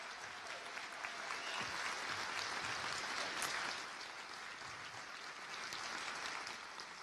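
A candidate forum audience applauds the candidates for a congressional district race, with a sustained, even wash of many hands clapping at moderate distance that stays steady for about seven seconds.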